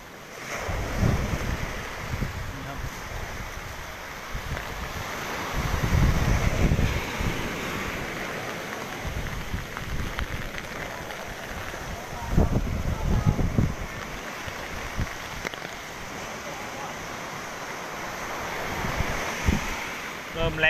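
Strong wind and surf during storm Pabuk on the Thai coast, with waves around a metre high and heavy rain: a continuous roar of wind buffeting the microphone and breaking waves, with louder surges at intervals.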